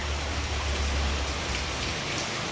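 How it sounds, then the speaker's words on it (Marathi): Heavy monsoon rain pours down outside, a steady, dense hiss with no pauses. "दुपारपासून पाऊस चालू झालाय खूप मोठा पाऊस"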